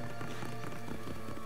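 Horse galloping in the video game Assassin's Creed Odyssey, a steady rapid clip-clop of hooves at low level over a continuous game music and ambience bed, with no talk.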